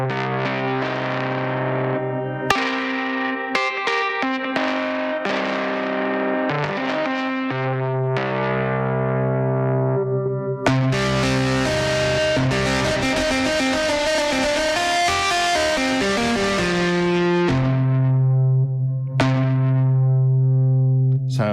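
Sustained synth-like tones and chords pass through Baby Audio's TAIP tape saturation plugin on iOS as different presets are tried, giving a warm, distorted, loud wash that shifts in pitch and texture, without any voices.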